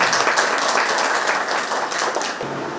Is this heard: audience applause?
yes